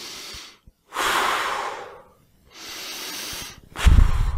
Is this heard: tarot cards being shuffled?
no